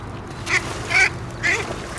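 Ducks quack in short bursts while being chased by a young mink, three or four loud nasal calls close by over a quiet outdoor background.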